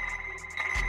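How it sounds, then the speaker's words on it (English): Coke Bottle Hit sample from the Omnisphere synth, a short glassy resonant tone with a sustained ringing pitch and soft airy accents, ending in a low thump. "Same kit right here, it's the second one at the top, Adrian Coke Bottle Hit."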